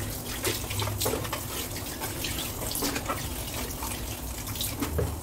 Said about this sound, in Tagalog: Hugasang mabuti ang cabbage at carrots.